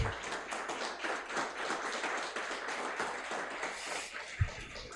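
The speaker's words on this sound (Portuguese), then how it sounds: "Aplauda bem forte o Senhor." Standing church congregation during a Portuguese sermon clapping hard in praise, a thick, continuous wash of many hands with one sharper thump near the end.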